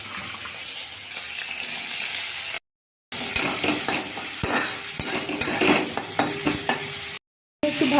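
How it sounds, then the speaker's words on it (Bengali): Carrots, beans and cauliflower fry in a pan with a loud, close, continuous hiss, crackle and stirring scrape, cut by two brief dead silences, with no talking. "একদিকে গাজর, বিনস আর এই যে ফুলকপিগুলো আছে এগুলো ভেজে নেবো"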